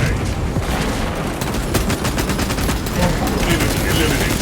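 Dense, continuous gunfire and explosive bursts from a Warhammer 40k Space Marine 2 battle with a frag grenade thrown, loud and close, a rapid rattle with no pause.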